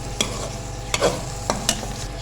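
Chicken liver and gizzard fry in ghee with a steady low sizzle, broken by several sharp scrapes and clacks of a spoon stirring the pan.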